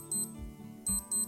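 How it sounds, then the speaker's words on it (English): A Casio W-735 digital watch sounds its alarm check, giving short, thin electronic beeps in quick bursts, close and clear with no talk over them. "it will give beeping sound like this"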